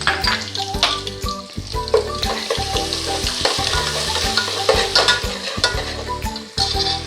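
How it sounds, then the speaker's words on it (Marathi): Mustard seeds, cumin, curry leaves and ginger-garlic-coconut paste sizzling in hot oil, a loud close crackle with stirring scrapes and rhythmic clinks of a spoon against the pan. "मोहरी टाकणार आहोत, त्याच्यानंतर जिरे टाकणार आहे, कढीपत्ता घालणार आहे"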